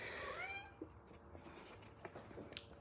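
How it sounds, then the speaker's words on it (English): A house cat meows once with a drawn-out, falling cry at the start, heard indoors in a home, followed by soft room noise and faint movement. "There's the cat come to see us look."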